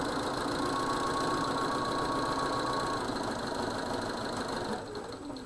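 A Bernina sewing machine stitching a quilt, running as one loud, steady, continuous motor whir close by for several seconds before easing off at the end.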